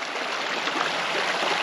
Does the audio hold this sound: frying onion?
no